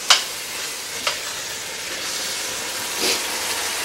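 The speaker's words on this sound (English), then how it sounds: "the tomatoes and onions and everything are cooking away" Tomatoes and onions cook in a pot, giving a soft, steady sizzle and bubble with a few sharp clicks of stirring, fairly quiet and without talk.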